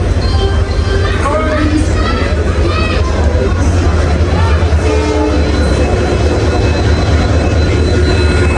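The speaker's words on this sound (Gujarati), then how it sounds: "જસ્ટ આ છે દિલ્હી રેલવે સ્ટેશન, જોઈ શકો છો તમે." Busy Delhi railway station with trains, a loud, constant rumble of rail traffic mixed with crowd babble, and people talking close by throughout.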